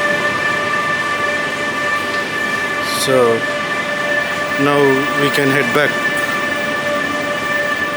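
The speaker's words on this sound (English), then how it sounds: "We dropped our luggage at the railway station." Steady rumble of a train at a railway station in Luxembourg with a couple of short horn blasts partway through, while a person speaks nearby.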